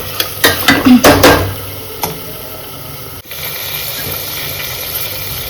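A spoon scrapes and clanks through a pan of salted vegetables for veg pulao in a quick burst of stirring strokes, then a low sizzle carries on quietly.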